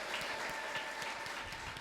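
A church congregation breaks into ululation and clapping, a dense, steady wash of many hands and high trilling voices holding at an even level throughout, with no single voice standing out.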